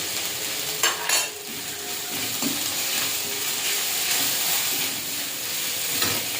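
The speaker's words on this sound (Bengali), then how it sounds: "লঙ্কার গুঁড়ো আর জিরে গুঁড়ো দিয়ে ভালো করে কষে সবজিগুলো দিয়ে দেবো" Vegetables frying with chili and cumin powder, a continuous hissing sizzle with occasional stirring clinks and scrapes against the pan, near and steady throughout without any voices.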